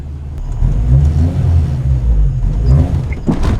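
An old Honda Civic with a grabby, unsprung clutch stalls while pulling away, a steady low engine rumble that chugs and labours before cutting out, ending in a brief mechanical clunk.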